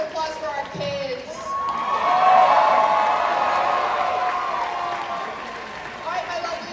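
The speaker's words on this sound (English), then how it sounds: "Give a big round of applause for our kids." A cosplay contest crowd claps and cheers for the kids on stage, rising to a loud peak with whoops and shouting children before easing off, with voices mixed into the noise.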